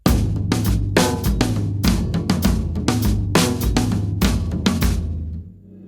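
A steady drum-kit groove for Open the Eyes of My Heart, kick and cymbals driving with the snare accent moved to a later beat, close and loud, fading out at the end without any talking.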